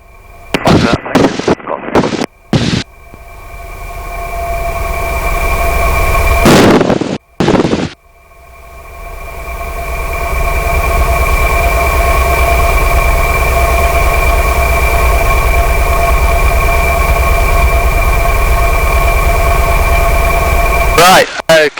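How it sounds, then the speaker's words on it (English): Light aircraft engine running up for pre-takeoff power checks, a loud steady drone with strong tonal harmonics holding for most of the stretch after a few brief choppy bursts, with a short dip around the middle. "we're going to do some power checks just to make sure the engine wants to behave itself"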